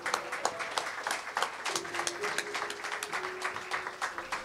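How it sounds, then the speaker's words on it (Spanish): Crowd applause, a dense patter of many hands clapping steadily for several seconds, moderately loud and close. "Fuerte aplauso para Fex."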